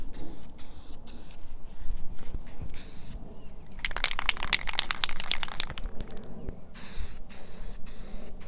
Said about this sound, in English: And now I'm going to lay my first coat of primer.